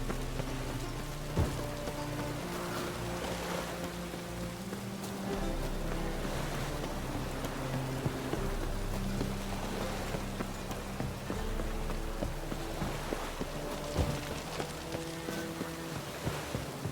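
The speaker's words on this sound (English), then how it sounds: "Looks like rain." Steady in-game rain in The Witcher 3 patters over a low, droning musical bed, a continuous wash of drops with no pauses.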